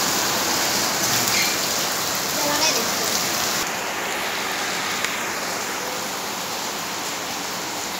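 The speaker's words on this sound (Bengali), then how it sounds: "বাইরে কি পরিমাণ বৃষ্টি হচ্ছে আপনাদের দেখাইতেছি" Heavy rain falls outside in a dense, steady hiss that fills the whole stretch, loud and unbroken, shifting slightly in tone partway through, with no talking.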